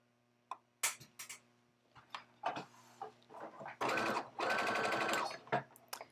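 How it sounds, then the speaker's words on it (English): A free-arm sewing machine stitching socks runs in two sustained bursts of rapid stitching, close and fairly loud, with short clicks and handling noises between them. "My sewing machine has this free arm thing"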